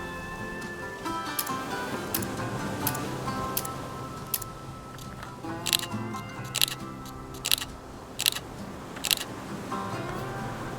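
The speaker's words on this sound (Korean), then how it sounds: "X-E4는 셔터 소리가 확실하게 크게 나는 부분이 다른 점입니다" Shutter releases of Fujifilm X100V and X-E4 cameras: about eight crisp, separate clicks spaced a second or so apart, sharp and close against a quiet background hum, some louder than others.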